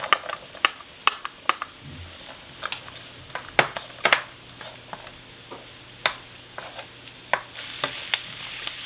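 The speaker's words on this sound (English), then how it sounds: "Now I'm adding 2 celery stalks that I chopped up." Chopped celery stalks hit a hot pan and sizzle softly, with scattered sharp scrapes and clinks of a utensil stirring against the pan throughout.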